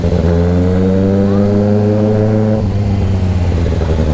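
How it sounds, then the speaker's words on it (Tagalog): Close, loud engine roar of a vehicle driving in first gear through slow traffic. The strong, steady drone holds its pitch, then shifts abruptly partway through as the engine load changes. "Grabe talaga yung ungol ng makina nito."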